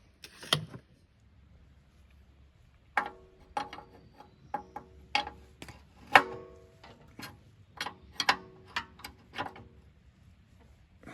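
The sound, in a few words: tightening nuts on plate compactor engine mount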